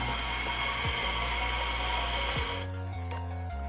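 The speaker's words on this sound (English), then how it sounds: "the grinder does its thing and you can take your hand away" A Mahlkönig E80 Supreme coffee grinder runs with a loud, steady high-pitched motor whine and grinding hiss for about two and a half seconds, then winds down as the motor spins to a stop.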